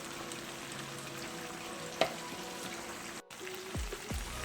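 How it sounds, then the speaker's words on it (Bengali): Chicken wings frying in hot oil for buffalo wings in a home kitchen, a soft steady sizzle running throughout, with a brief clatter and a short dropout near the end, fairly quiet with no talking. "এখানে আমি কিছু চিকেন উইংস ভেজে নিচ্ছি"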